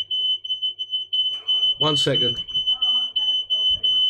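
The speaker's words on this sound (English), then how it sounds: "the old fire alarm went off then" A smoke alarm rings with a steady, high, piercing tone through the whole stretch, with people talking loudly over it partway through.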